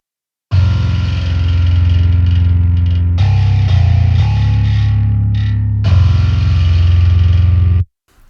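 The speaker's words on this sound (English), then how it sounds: "And this distorted bass sounds like this." A heavily distorted bass guitar plays a gritty, buzzing riff alone, loud and steady with a thick low end and brief pauses between phrases.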